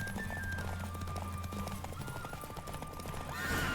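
Horse hooves clip-clopping at a gallop in The Witcher 3 video game, a steady close rhythmic beat under game music with a brief whinny-like tone, the pace surging louder near the end.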